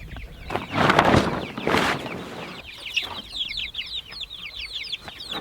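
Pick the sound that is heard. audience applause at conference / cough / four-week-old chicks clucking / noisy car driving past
four-week-old chicks clucking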